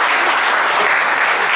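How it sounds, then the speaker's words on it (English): An audience at a technical audit session giving a round of applause, a dense continuous burst of many hands clapping together, loud and close, with no talk over it. "So you should give yourself a round of applause."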